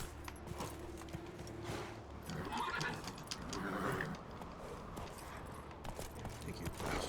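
Roach, the horse in The Witcher 3, gallops with steady rhythmic hoofbeats and occasional neighing amid game ambience and a voice.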